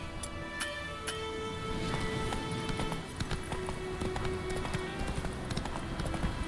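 Galloping hooves of the horse Roach in the video game The Witcher 3, a fast steady clip-clop rhythm running throughout over game ambience, with a few sharp clicks near the start.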